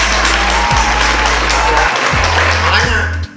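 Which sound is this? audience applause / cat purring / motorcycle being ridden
audience applause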